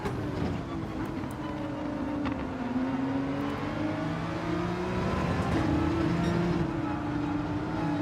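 A McLaren race car in Gran Turismo 7 drives on a rain-soaked track, its engine holding a steady, rising and falling drone with gear-change shifts, alongside the wash of wet tyres and other cars.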